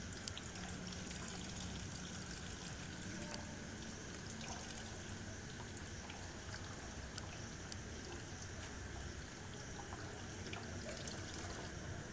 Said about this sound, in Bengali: এবার এটা আমি একটু চেপে চেপে ঘুরিয়ে ঘুরিয়ে জলটা বের করে নেবো কিছুটা।